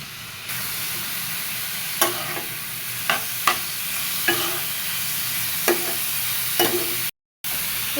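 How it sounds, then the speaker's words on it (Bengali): Spices fry with turmeric powder in a pan for a braised chicken dish, with a constant hissing sizzle and several sharp clacks of a spatula stirring against the pan; a brief dropout occurs near the end. "হলুদের গুঁড়ি দিয়ে এবার ভালো করে ভেজে নিব।"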